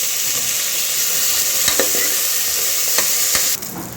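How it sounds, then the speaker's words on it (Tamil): Curry leaves and coriander sautéing in a pan for mutton head curry, with a loud, steady close-up sizzle and a few light stirring clinks and scrapes. "இதையும் ஆட் பண்ணி எல்லாத்தையும் சேர்த்து வதக்கணும்"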